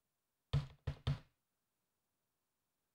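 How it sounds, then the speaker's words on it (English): Placement of a garage door in the video game Rust, three quick heavy knock-like thuds in a row followed by silence and a faint click at the end. "Let's throw down your garage door"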